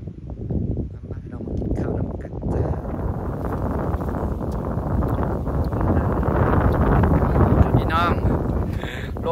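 Strong outdoor wind buffets the microphone with a constant low roar throughout, while a person talks over it.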